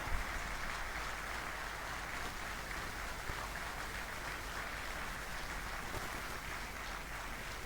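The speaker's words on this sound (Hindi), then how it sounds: "15 सेकंड के लिए अनवरत तालियां बजाइए।" Sustained applause from an audience at a youth association event fills the space as a steady, soft wash of many hands clapping, fairly distant and unbroken throughout.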